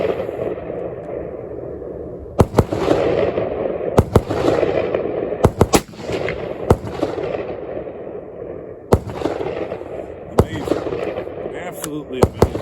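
Sharp, loud SSG-82 rifle shots crack out several times at irregular intervals over a steady outdoor background hum, each with a quick echo.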